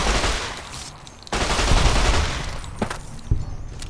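Rapid bursts of gunfire from a modded PC playthrough of Fallout: New Vegas, a loud sustained volley broken by a short pause, then several sharper single cracks trailing off near the end.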